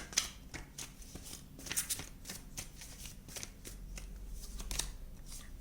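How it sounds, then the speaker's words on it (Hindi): Tarot cards are shuffled and drawn, with quiet, close riffling and soft slapping card sounds in short bursts and no talking. "फ्यूचर के लिए कुछ कार्ड्स निकालते हैं।"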